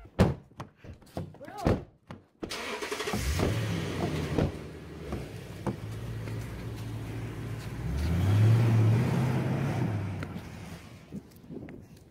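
A car being driven off by a child: a couple of door thunks, then the engine starts and revs, holding a steady drone before surging louder and fading as the vehicle pulls away.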